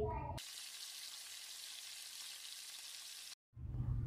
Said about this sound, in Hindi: अब हम बड़े साइज़ के जो डोनट्स हैं वो फ्राई करेंगे